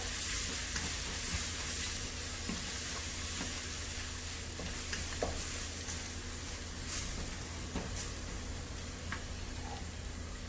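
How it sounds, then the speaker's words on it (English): Ginger garlic paste fries in oil with a continuous dense sizzle, stirred with light scattered ticks and scrapes, close and steady with no voices. "we need to give it a good stir until the raw smell of the ginger garlic paste smell is gone"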